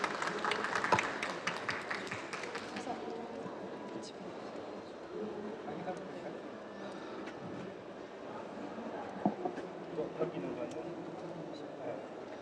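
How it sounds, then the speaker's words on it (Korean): Audience applause welcomes a speaker at a conference, a faint burst of clapping in a large hall that dies away after a few seconds into quiet room murmur. "큰 박수로 모시도록 하겠습니다."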